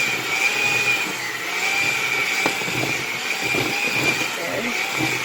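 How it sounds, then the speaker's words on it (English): An electric mixer blends buttermilk into chocolate cake dough, giving a steady, fairly loud whirring hum with a high whine that runs throughout, while a voice speaks faintly underneath. "we're going to blend this together until it turns into a sausage"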